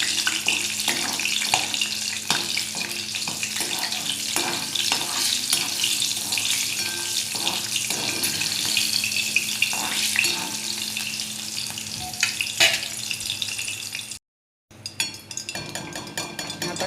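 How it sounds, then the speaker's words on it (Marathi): Green chillies fry in hot oil with a steady, loud sizzle and crackle that runs throughout, broken by a short silence near the end before the frying noise resumes. "मी गॅस करते बंद आणि ह्या मिरच्या तळून घेऊ आता आपण."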